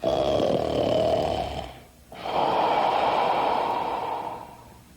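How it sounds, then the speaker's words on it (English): Loud, rasping snores from a man, two long drawn-out breaths with a brief quiet gap between them, close and heavy. "he was snoring as loud as thunder"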